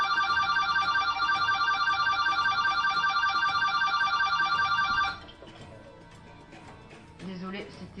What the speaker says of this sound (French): c'était mon père qui téléphone